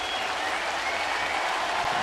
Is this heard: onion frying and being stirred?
no